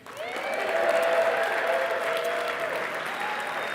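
Warm audience applause at a winter mountaineering talk, a full, continuous wash of clapping that swells quickly and holds, with a faint whistle or cheer in the mix.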